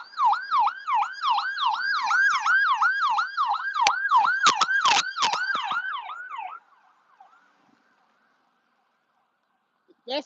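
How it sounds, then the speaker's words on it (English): An ambulance siren passes with a loud, rapid wailing yelp, then fades into the distance after several seconds, leaving near silence before a brief burst returns at the end. "Hold on, let me let this ambulance go past."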